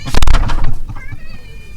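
A house cat meows close by indoors, starting with a loud, sharp burst followed by a softer, drawn-out wavering cry that trails off, with no talking over it.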